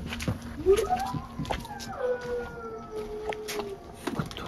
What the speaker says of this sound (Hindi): कुत्तों की आवाज आ रही